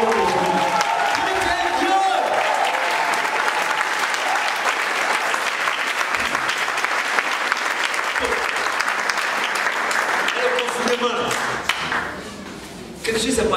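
A church congregation bursts into sustained, loud applause and cheering, dense clapping filling the space for over ten seconds with a preacher's voice faintly beneath, tapering slightly near the end.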